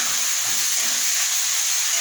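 Pre-fried pointed gourd pieces dropped into a pan of frying poppy seeds, producing a loud, steady steam-like hiss that stays even and close for the whole stretch.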